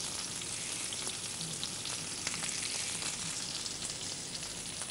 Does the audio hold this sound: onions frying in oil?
yes